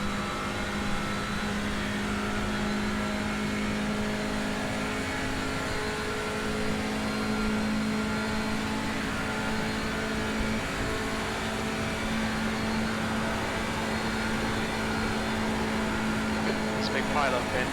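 Touring race car engine in iRacing at Monza, a steady loud droning engine note held at high revs with a smooth even throttle, running continuously throughout.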